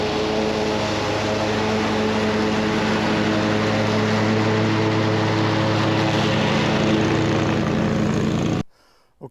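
A Bad Boy Maverick HD zero-turn mower drones loudly and steadily with an engine hum while mowing grass, cutting off abruptly near the end.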